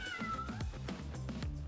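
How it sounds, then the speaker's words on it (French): A cat meows repeatedly in short, close, fairly loud calls over a steady background, part of a French quiz about which animal meows. "quel animal miaule? Chat."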